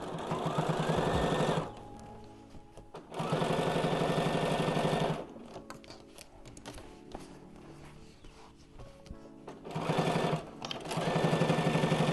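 A Bernina 532 sewing machine stitches a cover in loud, steady whirring runs that stop and restart several times, with mechanical clicks and quieter handling in the pauses, close up and without speech.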